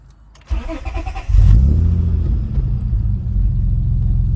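A car with a Honda J-series engine cranks and fires up, then settles into a steady low idle near 850 RPM, a deep even rumble heard close with no voices.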